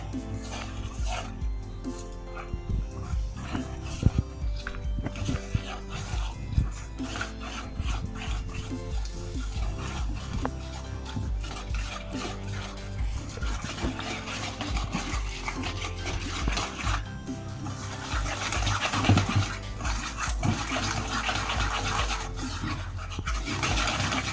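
Financier batter is stirred together with melted butter in a bowl, giving a continuous wet rubbing and scraping that carries on steadily, with faint background noise and occasional voice-like sounds.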